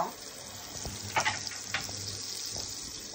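Margarine sizzles in a saucepan as cooking begins for a beef bourguignon, a faint, steady frying hiss with a few light clinks and stirs.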